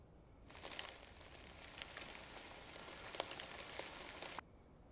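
Soil is poured into a pot in the video game Schedule I, a quiet, continuous granular hiss lasting about four seconds before cutting off abruptly.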